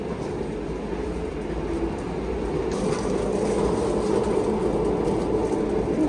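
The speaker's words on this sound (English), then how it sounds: "This time the train is more old-fashioned, but it's very nice." An old-fashioned passenger train, the Santa Maria Express, running on rails with a steady low rumble and rolling noise that builds slightly louder partway through, with no voices.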